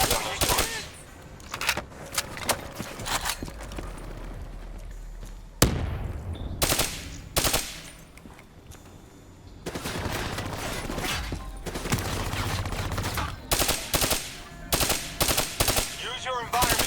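Rapid bursts of turret machine gun fire from Call of Duty: Black Ops III, loud and close, broken by short pauses between volleys, with other in-game gunfire and impacts mixed throughout.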